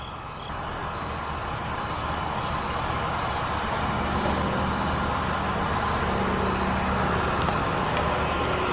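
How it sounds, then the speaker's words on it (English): The air suspension compressor pump on a Mercedes GL450 runs as a steady, close mechanical drone and hum that holds at an even level throughout, with no talking. "So right here, our pump turns on, it's creating air pressure."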